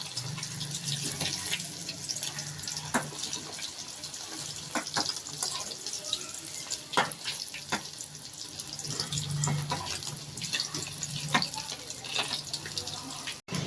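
Emperor fish frying in hot oil in a pan, a steady broadband hiss and crackle with scattered pops throughout, fairly close and continuous, with no talk over it.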